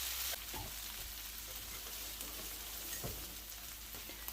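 Onions sizzle quietly in a pan for oxtail fajitas, a steady soft crackle with a few stirring clinks, no talk.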